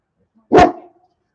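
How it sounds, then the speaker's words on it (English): A single sharp dog bark, loud and close, with a short ringing tail fading out afterward. "Oh, I really hope she stops barking."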